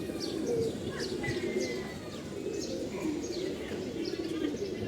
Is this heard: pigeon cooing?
yes